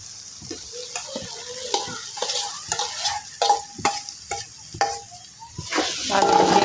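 Potatoes fry in a cooked-down spice paste in a pan, giving a steady sizzle broken by repeated scraping stirs and clanks of the spoon, close and fairly loud with no voices.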